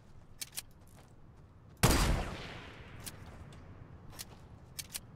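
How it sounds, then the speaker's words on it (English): Sniper shots fired at a llama in the video game Fortnite: one loud, sharp report with a decaying tail, surrounded by fainter clicks and footstep-like taps in a quiet game scene. "takes three shots to open a llama with a sniper?"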